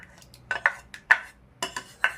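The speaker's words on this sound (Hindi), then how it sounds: "इसको इस तरह हाथ चमचे से ऐसे ऐसे इसको चलाते रहेंगे, चला चला करके इसको छान लेते हैं।" A metal spoon is stirred through bael fruit pulp in a bowl, giving about seven sharp clinks and scrapes at an irregular, unhurried pace, heard close and clear with no talking.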